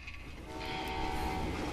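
A train in the Western shooter game Call of Juarez: Gunslinger rumbles steadily along, a sustained rolling roar with a faint horn-like tone threading through the middle, no voices.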